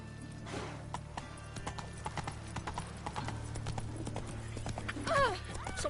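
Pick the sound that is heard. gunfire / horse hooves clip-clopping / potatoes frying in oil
horse hooves clip-clopping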